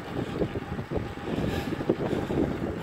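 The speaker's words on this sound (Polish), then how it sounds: "Dmucha dosyć konkretnie." Strong gusting wind on a mountain climb near the summit, a loud continuous rushing roar buffeting the microphone with uneven surges and no talking.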